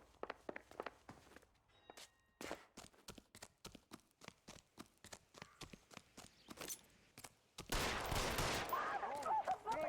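Gunfire in the video game L.A. Noire: a quiet string of sharp, evenly spaced shots cracks out one after another, ending in a denser, noisier burst.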